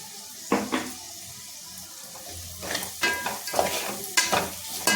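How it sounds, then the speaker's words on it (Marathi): Finely chopped tomatoes hit hot tempering in a pan and fry with a close sizzle, punctuated by several scraping stirs that come in uneven bursts. "बारीक चिरून घ्यायची टोमॅटो आणि ते फोडणीला टाकायचे"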